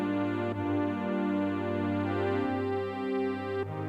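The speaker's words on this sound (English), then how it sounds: "it's like a synth strings or something like that" Sustained synth string pad playing slow chords, warm and steady with a retro 80s feel, no voices.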